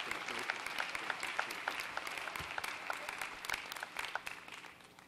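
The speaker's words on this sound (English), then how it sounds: "Let's give our mayor another round of applause" Sustained audience applause at a December university commencement ceremony in a large hall, dense and steady throughout, slowly tapering toward the end.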